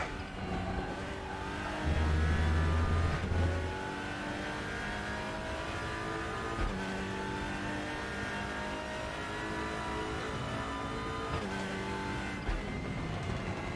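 WTCR touring race car driven in the RaceRoom Racing Experience sim game, engine revving and pulling through gear changes at a continuous, fairly loud level, with no talking.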